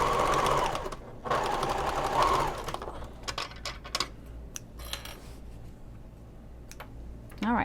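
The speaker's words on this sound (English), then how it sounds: "All right, so we've sewed across the top edge." A sewing machine stitches across the top edge of a fabric messenger bag, running in two long, fast whirring bursts, then giving way to scattered clicks and handling noises.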